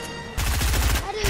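Gunfire in the Fortnite video game, a dense rapid burst of shots following a brief lull, loud and close.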